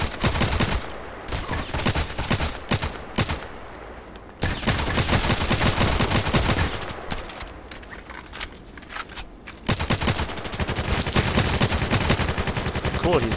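Rapid automatic gunfire in the online shooter Contract Wars, long loud bursts of shots with short pauses between them, close and dense throughout.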